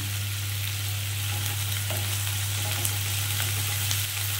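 Sliced onions fry gently in hot oil for chicken do pyaza, a continuous soft sizzle and crackle over a low steady hum, close and even throughout, with no voices.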